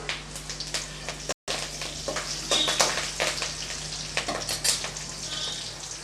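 Curry leaves dropped into hot oil in a pan for a raw mango pachadi sizzle and crackle steadily and loudly throughout, with sharp bursts of spitting and a brief cut near the start.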